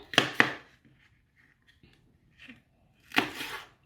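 A blunt knife chops through a green pepper with two sharp cuts, then faint small sounds, then a louder crunching slice close by.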